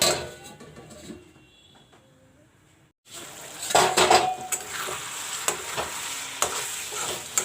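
A pot of potatoes in water is covered with a lid to cook, with clanks of metal cookware, then steady sizzling and stirring noises close by, without any voices.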